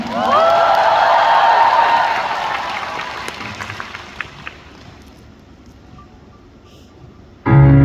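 Concert audience applause and cheering at the start of a live band performance, a loud dense wash of clapping that swells then fades into quieter crowd noise before music bursts in at the end.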